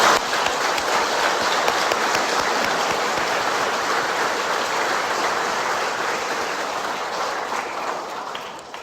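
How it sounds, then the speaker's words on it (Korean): A congregation at a 2025 Easter Vigil Mass in church applauds to welcome returning members, a dense, even hiss of many hands that rolls on like rain and slowly softens. "환영의 박수를 부탁드립니다"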